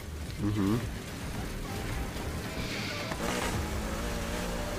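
A car drifting in Need for Speed Heat, engine revving with rising whine and tire noise under game effects, moderately loud and continuous, as someone talks over it.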